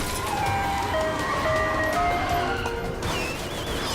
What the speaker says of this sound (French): Un camion de glace!